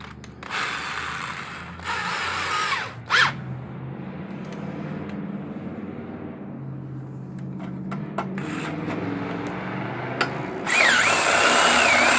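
A power drill enlarges a hole from 3/16 to 1/4 inch in three whirring bursts, two early and short and one near the end, with quieter scraping and handling noises in between.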